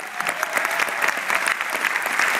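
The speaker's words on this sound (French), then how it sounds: "On les applaudit." An audience claps briskly and evenly at a creativity-prize award ceremony, a continuous wash of hand claps with no pause.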